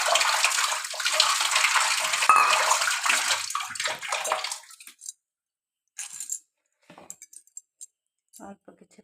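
Water pours into washed mung dal in a cooking pot, a loud, steady rushing splash for several seconds that then stops, followed by a few faint clinks and handling sounds.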